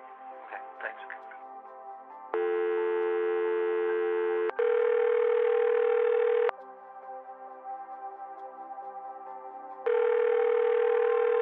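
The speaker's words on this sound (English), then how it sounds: "So just hold the line for a couple quick seconds, and I will dial Grant in" Telephone dial tone and line tones on a live call, steady sustained tones that switch on and off in blocks between quieter stretches, with a voice faintly heard near the start.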